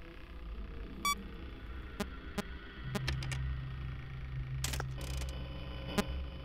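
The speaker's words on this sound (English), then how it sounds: "Beep. Beep." Five Nights at Freddy's 3 plays short electronic beeps and clicks at irregular intervals over a low steady hum, with a buzzing tone that sets in partway through.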